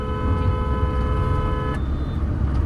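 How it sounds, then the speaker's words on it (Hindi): A short car horn toot sounds amid steady highway traffic and engine rumble, cutting off partway through. "इसलिए मैंने इसको हॉर्न दिया"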